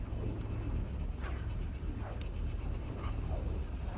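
An injured dog with a busted leg, heavily sedated, lets out soft, short whimpers every second or so, faint against a steady background noise with no speech.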